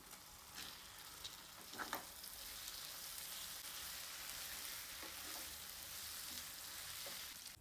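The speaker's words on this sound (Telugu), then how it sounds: "మన హీరో ఆఫ్ ది రెసిపీ పన్నీర్ని వేసుకొని వేపాలి." Paneer fries with methi leaves in a pan over a low flame, a faint, steady hiss with a few soft clicks of stirring, no voices.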